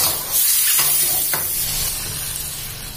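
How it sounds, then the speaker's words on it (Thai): Straw mushrooms and shrimp stir-fry in oyster sauce with a steady close sizzle, broken by a few scraping stirs of the spatula in the pan. "ไม่ต้องผัดนานเพราะเห็ดเราไอ้นี่สุกแล้วนะคะ"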